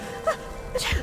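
A character in Dishonored lets out a single short sneeze, quick and close, with game ambience underneath and no talking.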